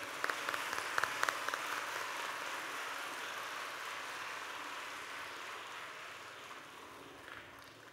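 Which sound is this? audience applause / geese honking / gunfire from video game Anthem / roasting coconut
audience applause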